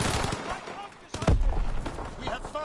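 Call of Duty: WWII gunfire, a burst of shots with one heavy booming report in the middle, heard fairly faintly under game sounds and talk.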